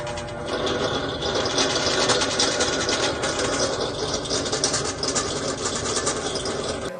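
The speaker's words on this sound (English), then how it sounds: "a short video of what this fan sounded like before replacing the bearings" A 1984 FASCO Heat Cycler ceiling fan with worn bearings runs steadily, giving a loud, continuous grinding rumble with a rough mechanical whine that holds at an even level throughout, with no voices.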